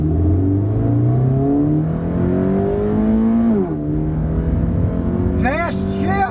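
A Toyota car pulls hard in sport mode, engine note climbing steadily through the gears with a quick shift dip partway, loud and close from inside the cabin, with a voice briefly speaking near the end.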